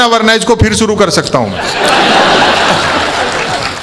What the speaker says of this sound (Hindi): समापन पर तालियां बजा देना